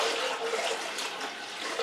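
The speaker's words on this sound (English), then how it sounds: "I've got another pot of water right here. And I'm just going to add some water" Water pouring from a pot into a canning pot of jars, a steady splashing gush lasting a couple of seconds, close and fairly loud.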